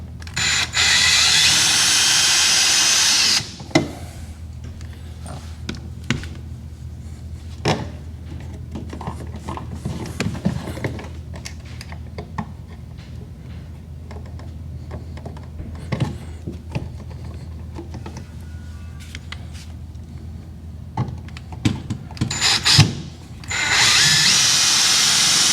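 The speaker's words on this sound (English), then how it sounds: "just screwing the outlet into place" A power drill drives screws to fix a 220/240-volt welder outlet in place, with loud whirring bursts at the start and end and scattered clicks and handling knocks in between.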